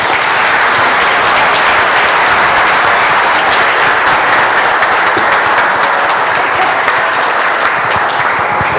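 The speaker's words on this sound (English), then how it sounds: "let's give Justine another round of applause" Sustained, loud crowd applause for keynote speaker Justine Bone at a security conference in Boston, a thick, even roar of many hands clapping without letup.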